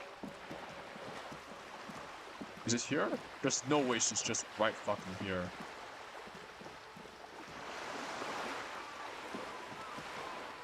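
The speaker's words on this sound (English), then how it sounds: "That sounds like water." Ocean water by seaside apartments in the video game Disco Elysium, a soft continuous wash of surf that swells louder near the end, with someone talking over it midway.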